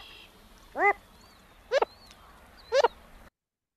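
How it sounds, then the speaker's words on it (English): Three short, nasal woof-like calls from a Wilson's Phalarope, evenly spaced about a second apart, clear and fairly close against a quiet marsh background. "And the Wilson's Phalarope going woof, woof, woof."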